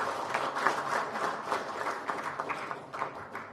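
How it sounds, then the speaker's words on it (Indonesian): Applause at a political party press conference for the media in Indonesia, a dense crowd clapping steadily for a few seconds with no pauses. "Tepuk tangan untuk teman-teman media."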